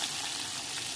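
Mustard seeds, cumin and curry leaves crackle and sizzle in hot oil for a tempering, making a steady close-up frying hiss.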